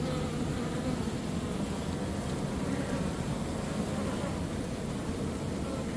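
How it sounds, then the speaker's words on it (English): Honeybees fan at a hive, producing a dense, continuous buzzing drone that holds steady throughout at moderate loudness, with no voices over it. "you can see they're fanning and they're trying to chase her"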